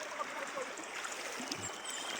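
Clear river water flows steadily with a soft, even rush and small trickles while someone wades across the river, constant and close with no talking.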